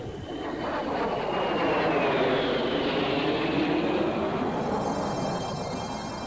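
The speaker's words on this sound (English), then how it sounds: "Everyone enjoyed the accelerating transition, followed by a fast," A Kestrel jet aircraft roars past in a fast low-level pass, a broad loud rushing engine noise that swells and holds steady with a faint high whine sweeping down, then slowly fades.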